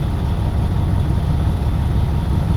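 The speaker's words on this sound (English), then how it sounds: "I just start up the engine" A Detroit Diesel engine runs at a steady low idle in a steady, close-up rumble with no talking.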